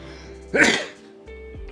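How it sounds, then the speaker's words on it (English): One short, explosive sneeze bursts out close to the microphone, followed by quiet room tone. "I sneeze."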